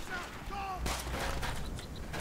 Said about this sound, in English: There's bullets and stuff flying past me.